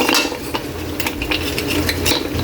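Butter shrimp being stirred in a pan, metal utensil clinking and scraping against the cookware in short irregular strokes over a soft background hiss.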